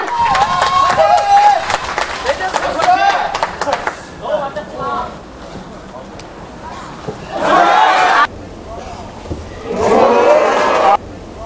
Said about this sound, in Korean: 두 선수를 위해서 힘찬 박수 필요합니다